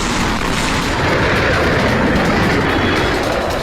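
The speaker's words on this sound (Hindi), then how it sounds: "आग लगने के बाद तेज धमाके होने" Loud, continuous roar of a fire at a firecracker factory in Harda, Madhya Pradesh, with deep booming explosions blending into a dense rumbling wash throughout.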